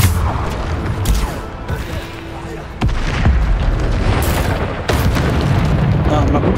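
Hogwarts Legacy spell combat with a Bombarda blast among heavy booming impacts, loud and close, several sharp explosive hits over continuous battle noise with a voice shouting.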